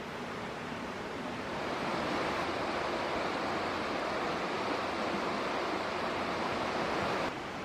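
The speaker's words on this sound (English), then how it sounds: "And directly below is the Eagle Creek." Eagle Creek flowing beneath the George Miller Road covered bridge, with some ice remnants: a steady, broad rushing of water, fairly close and continuous, with a slight swell in loudness partway through and no voices.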